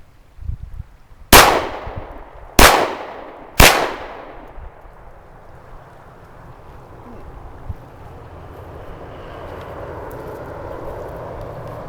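Three sharp, loud gunshots about a second apart from a Glock G22/31 pistol fitted with an Alpha Wolf 9mm conversion barrel, each ringing out outdoors, followed by quiet wind-like ambience.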